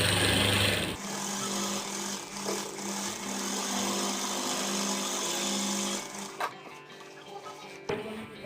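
Sewing machine stitching the front placket of an apple-cut shirt, a close mechanical whirring hum that runs steadily for several seconds, then stops, leaving a few light clicks and handling knocks.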